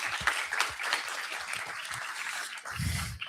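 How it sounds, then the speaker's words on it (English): Brief, moderately loud audience applause for panel speakers at a UN youth engagement event, a dense patter of clapping filling a few seconds. "Can we give our speakers a wonderful round of applause?"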